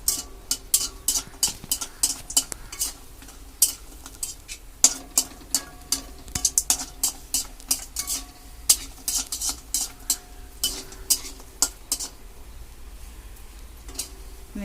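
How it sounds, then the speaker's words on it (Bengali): Bori lentil dumplings frying in hot oil in a wok, with a soft sizzle under a steady run of sharp metallic scrapes and clinks of a spatula stirring against the pan, close and busy throughout. "বড়ি কাটা ভেজে আমি তুলে রাখবো।"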